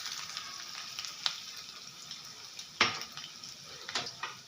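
Cumin seeds and finely chopped ginger frying in a pan, a steady close sizzle with occasional sharp crackles and stirring clicks against the pan, no voices.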